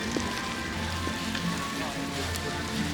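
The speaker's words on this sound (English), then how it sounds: "It is raining" Steady rain falls at the Epcot theme park, a dense, even patter on nearby surfaces throughout, with scattered sharper drops and no break.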